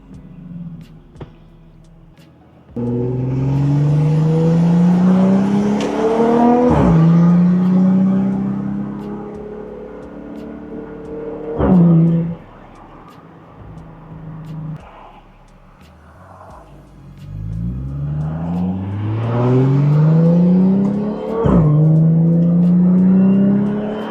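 A supercharged 400hp Audi S4 revs hard and accelerates through the gears, engine note climbing, dropping at each shift and climbing again, loud and close from inside the car with no talk.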